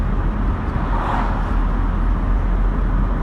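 A Vauxhall Cavalier mk2 drives along a road at around 30 mph, its steady engine drone and road rumble continuous and close from inside the cabin, with no talking.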